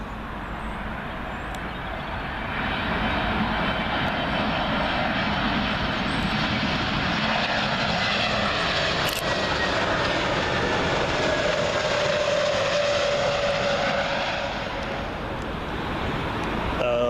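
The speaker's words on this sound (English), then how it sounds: "It's a Lufthansa A320neo in from Frankfurt." A Lufthansa A320neo landing at Heathrow gives a broad, sustained engine roar that builds, holds steady and eases slightly toward the end, with a whining tone rising through the middle.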